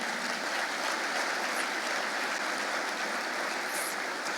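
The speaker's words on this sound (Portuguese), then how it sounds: "pode aplaudir a Deus." A church congregation clapping to applaud God at the end of a sermon, dense even applause that holds steady throughout, a crowd sound without distinct talk.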